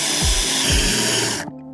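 A power drill bores out spot welds on the rusted body of a £380 Transit camper van, a close, continuous high whirring grind that cuts off abruptly near the end.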